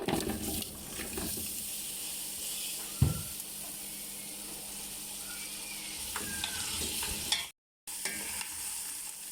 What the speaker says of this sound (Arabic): وهسه تحمس عندنا البصل